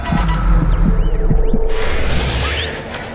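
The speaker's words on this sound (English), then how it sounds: "I like how it's a Morse code sound when your buddy's down" Morse-code-like beeping alert in the co-op zombie shooter Sniper Elite: Nazi Zombie Army 2 signalling a downed teammate, a rhythmic series of short pulsed tones over a low game hum, followed by swooshing effects.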